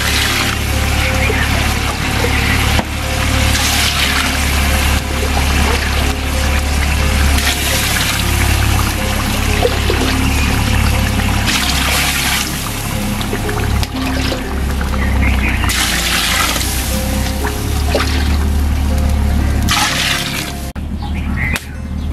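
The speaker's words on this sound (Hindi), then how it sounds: "अब हम इसमें डालेंगे पानी।" Water pours steadily into a pot of chicken pulao, a continuous splashing, gurgling rush close by that runs on for many seconds.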